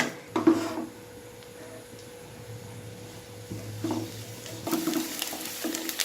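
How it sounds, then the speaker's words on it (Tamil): Sliced onions frying in a pan with cinnamon and cloves for a veg keema masala, a steady sizzle under occasional scraping stirs of a spoon against the pan. "பெரிய வெங்காயம் நல்லா கோல்டன் ப்ரௌனாக வந்துட்டு வணங்கி வரணும். அது வரைக்கும் இதை நல்லா வந்துட்டு ஃப்ரை பண்ணிக்கோங்க."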